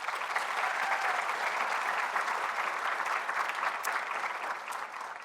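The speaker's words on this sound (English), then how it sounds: "Students, give them a big round of applause." A dense, steady wash of audience applause fills the hall at a White Coat Ceremony, many hands clapping together at an even, sustained level with no speech over it.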